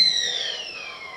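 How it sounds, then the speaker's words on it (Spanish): A household kettle whistles as its water boils, a steady high-pitched steam tone that slowly slides downward in pitch, close and alone for about a second. "Así suena una tetera cuando está hirviendo, ¿verdad? Hierve el agua y sale el vapor haciendo ese sonido."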